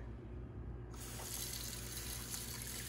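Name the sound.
water running from a tap for rinsing dishes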